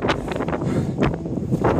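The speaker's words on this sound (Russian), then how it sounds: "Офигеть, здесь ветер. Завихрение мощное." Strong gusty wind on Mount Lafayette, New Hampshire, buffets the microphone in rough, roaring bursts with no voices.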